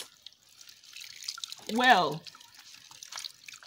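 Tap water runs over soapy hands and arms during a handwashing rinse, a steady soft splashing hiss beneath one brief spoken word.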